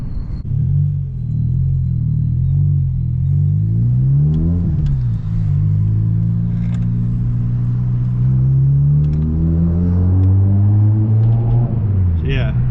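Car with a newly fitted aftermarket exhaust pulling away slowly and accelerating on a road, heard from inside the cabin as a deep, loud rumbling drone climbing through gears, with people talking over it.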